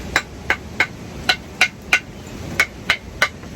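A plastic-handled hammer taps a live oak root burl about ten times at a steady, even pace, each strike sharp, close and solid-sounding over a faint background hiss.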